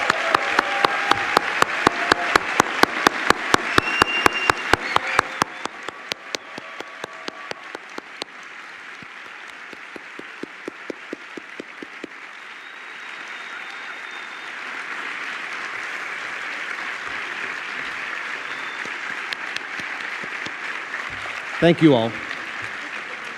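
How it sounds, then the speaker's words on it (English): Graduation audience at an MBA ceremony in Singapore applauds the student council, a large hall of steady clapping with rhythmic unison claps at first, thinning and then swelling again, with a brief spoken thanks near the end. "let's give them a big round of applause for serving as the council this year"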